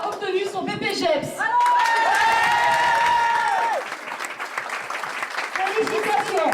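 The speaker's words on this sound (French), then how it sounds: "Et elle mérite encore des applaudissements" Audience applause at a cabaret evening in Condé-sur-l'Escaut, a steady crowd clapping with some cheering. A sustained musical tone and talk run over it for part of the time.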